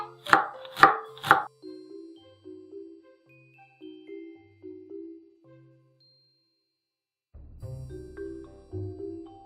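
A knife shreds cabbage on a board with three quick, loud chops, then quiet clinks and thin ringing tones follow, with a muffled clatter near the end.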